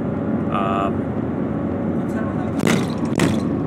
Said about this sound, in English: That was just a train that went by, and that was very fast.